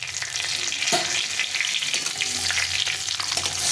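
Two dried red chillies, a little cumin and a bay leaf fry in hot oil, giving a dense, even crackling sizzle with faint stirring, close and steady throughout.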